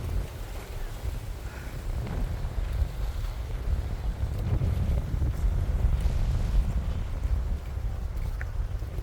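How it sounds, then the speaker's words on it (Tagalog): Steady wind buffets the microphone with a low, continuous rumble on Hudayriat Beach, with a hint of surf in the background and no talking. "Mahangin na."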